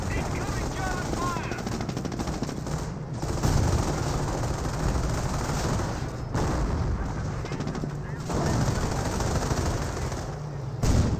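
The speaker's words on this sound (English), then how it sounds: "AT gun is receiving some fire there." Rapid gunfire and heavy battle noise from a Company of Heroes match, with an AT gun taking fire amid a dense, continuous wash of shots and explosions, a voice talking over it.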